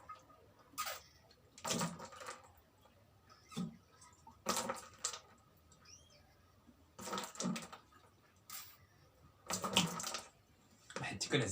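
Cheap manual hand pump pushing water through a tube into a container: short gushing, splashing bursts repeat every second or two with quiet gaps between strokes, close up and fairly faint.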